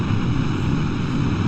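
A spacecraft engine in Kerbal Space Program runs as a steady, loud, broadband roar with a deep rumble, unbroken throughout and with no talk.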